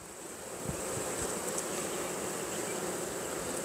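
Honey bees hum around a nectar-filled hive frame, a steady close buzzing drone that holds evenly throughout with a faint soft bump near the start.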